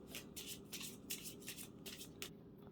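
Tarot cards are shuffled by hand in soft, rhythmic bursts of papery riffling, about six quick passes, quiet and close, with no talking.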